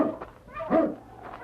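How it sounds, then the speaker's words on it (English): A husky sled dog in snowy northern country gives short barks and whimpering whines, close and fairly loud, in a few uneven bursts with no talk over them. "Oh, you huskies."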